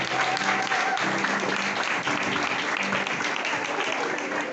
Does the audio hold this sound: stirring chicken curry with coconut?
no